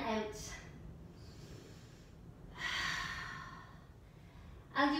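Slow, deep yoga breaths drawn in and let out, soft and close, with a long airy exhale in the middle and another breath at the end, no talking.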